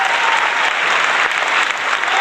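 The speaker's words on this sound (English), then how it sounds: "How about a big round of applause?" Gala audience at an autism charity fundraiser applauding, a dense, steady burst of clapping that stays loud and even throughout without voices on top.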